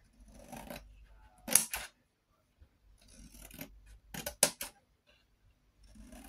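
Scissors cut paper for a scrapbooked box in two separate groups of close snips, each ending in a few sharp crisp cuts, with quiet gaps between them.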